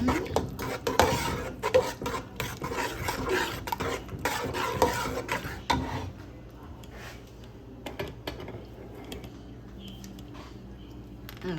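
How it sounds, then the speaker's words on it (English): Curry powder is stirred into a pan for paneer makhani lasagna, busy scraping and rubbing of a utensil against the pan for several seconds, then tapering to a few scattered scrapes and taps. "now I have a half a teaspoon of curry powder. Stir that in."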